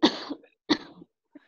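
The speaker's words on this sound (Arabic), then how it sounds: "في مين عم يسعل بسببه؟" A person coughs in a classroom: two separate bursts of coughing about half a second apart, close and fairly loud, followed by a brief faint throat noise, with no talking.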